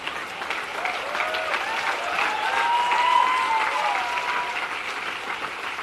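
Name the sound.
audience applause at a religious discourse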